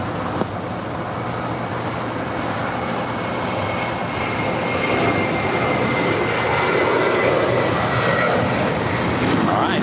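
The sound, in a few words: airliner taking off from runway 25 right at LAX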